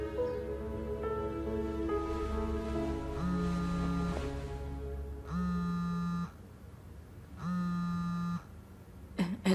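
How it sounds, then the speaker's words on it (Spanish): A telephone rings indoors in three repeated bursts, each a sustained electronic tone with short gaps between, heard loud and close over quiet background music. "El teléfono."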